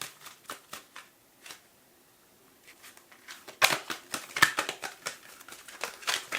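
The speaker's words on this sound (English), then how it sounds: "Okay, we're going to shuffle." Tarot cards shuffled by hand near the microphone: a few soft riffles at first, a short pause, then a denser run of crisp flicks and taps.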